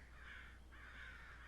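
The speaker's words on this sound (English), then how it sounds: "Those birds are really loud." Crows cawing loudly outside a house, two long harsh calls close together, filling the whole moment with no one talking.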